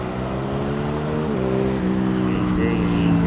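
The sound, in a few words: aircraft engine throttling up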